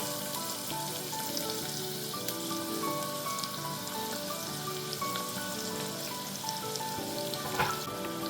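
Cumin seeds and finely chopped onion sauté in hot oil, giving a steady, close sizzle and crackle that runs unbroken throughout with no one talking.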